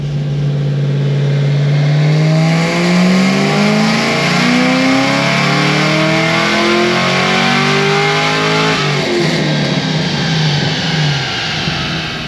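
A car engine revs hard through a dyno pull on 93 octane, a loud close roar climbing steadily in pitch for about ten seconds before easing off, with no talk.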